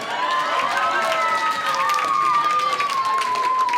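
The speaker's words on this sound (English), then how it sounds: "Give him a round of applause" Wedding guests at a best man speech break into sustained applause with cheering mixed in, a dense, steady roar of clapping that holds evenly throughout.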